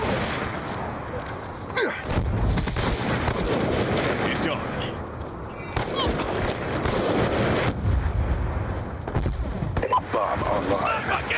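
A rocket launcher and gunfire in a search-and-destroy match of a first-person shooter game: loud, booming blasts and rattling shots roll through continuously, with players talking and shouting over the combat.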